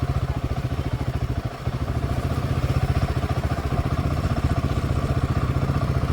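A motorcycle runs at a rally camp during the 15th North East Riders Meet in Aalo, Arunachal, with a close, steady engine throb whose rapid even pulses carry through the whole stretch.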